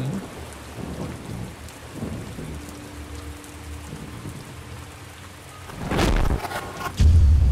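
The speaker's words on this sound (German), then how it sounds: "oh, es regnet schon die ganze Zeit" Rain and thunder in the Minecraft video game, a steady hiss of rainfall with a low rumbling thunder swell building toward the end, loud and alone without talk.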